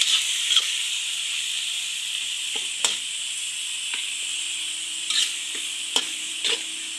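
Tofu menudo with potatoes and carrots cooks in a pan outdoors, giving off a steady sizzling hiss dotted with scattered sharp pops and clicks, close and continuous, with no voices.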